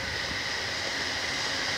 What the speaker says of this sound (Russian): И снова реальный поезд.